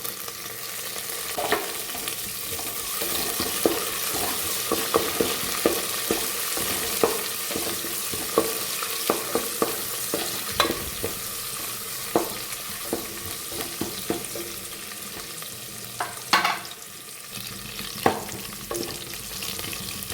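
Green chillies and curry leaves fry with garlic and ginger in a pan, giving a steady close sizzle with frequent sharp crackles and pops throughout, and no voices.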